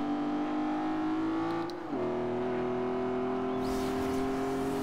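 Underpowered Vespa scooter engine in the Forza Horizon 2 racing game, droning at a steady high pitch that dips briefly around a gear change and then holds on, loud and continuous with no voices.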